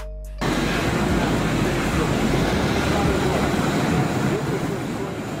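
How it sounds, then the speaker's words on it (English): A suspended railway train runs along an overhead track, a steady, loud broadband rumble that starts abruptly and holds continuously to the end. "Suspended railway, a type of railway where the train is suspended from an overhead track rather than running on tracks below"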